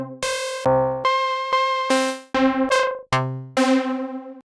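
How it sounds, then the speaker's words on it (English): Key-labeled synth shots from a melodic techno sample pack ring out one after another, about eight bright, harmonically rich stabs of varying pitch and length, loud and close with no voices. "Got some synth shots, which are also key labeled."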